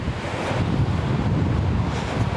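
Gale force wind at Cutter Park in Norfolk buffets the microphone in a loud, continuous rumbling roar that swells and pulses throughout.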